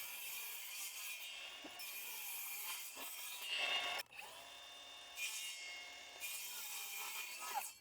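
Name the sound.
sawing wood for a workbench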